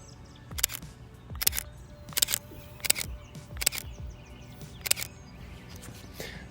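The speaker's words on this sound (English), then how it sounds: "I love the shutter sound." Leica M10 rangefinder shutter clicking six times at a steady, roughly even pace, crisp and close, each release a sharp mechanical snap over a quiet room.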